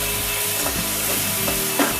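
Tomatoes tipped into a frying pan of crab curry base and stirred, a steady sizzle of hot oil with scraping stir strokes and a brief louder splash near the end, no voices.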